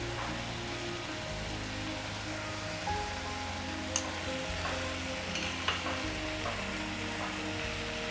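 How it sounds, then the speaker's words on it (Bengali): Mustard paste sizzles and fries in a pan with fish curry, giving a steady, close crackling hiss with a couple of brief clicks and knocks, and no talking. "এইবার সর্ষে বাটাটা আমি 2 পিস মাছের জন্য 2 চামচ সর্ষে বাটা"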